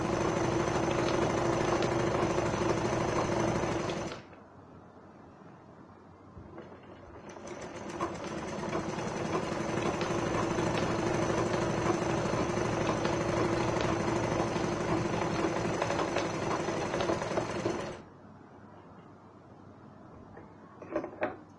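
A sewing machine double stitching a gown, running in a long steady loud whir, stopping briefly, then resuming for another long stretch before halting again.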